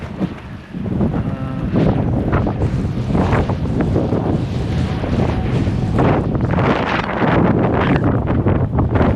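Strong wind roaring on a ski slope in Deer Valley's Empire Bowl, loud and sustained, battering the microphone in heavy unbroken gusts.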